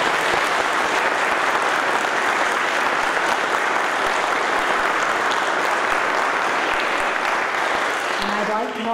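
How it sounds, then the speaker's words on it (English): Sustained applause from a large audience at a community chorus concert, steady and dense throughout, with a faint musical tone entering near the end. "If you'd like to give them a round of applause"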